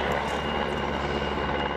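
Helicopter flying over the Belarus-Poland border, a steady broadband rotor and engine roar that is loud and continuous for a short moment, with no talk.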